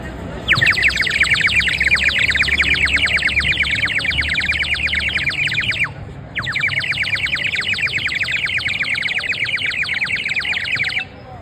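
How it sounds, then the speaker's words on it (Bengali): A ceramic water bird whistle blown in two long bursts of rapid, warbling trills, loud and close, with a brief gap between them. "সেই পাখির অবিকল সেই পাখিটার ডাক শুনতে পাবেন এই সিরামিক পাখিটি"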